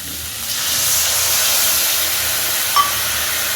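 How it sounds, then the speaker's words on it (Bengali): Water poured into a hot pan of vegetables for Bengali shukto, a loud, steady steamy hiss that rises quickly and holds for a few seconds, close and without speech. "এবার আমি এর মধ্যে পরিমাণ মতো জল দিয়ে দেব"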